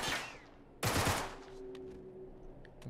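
An enemy shoots in Uncharted 3: a loud burst of gunfire breaks out after a fading shot, then scattered distant cracks and pops follow over a low hum.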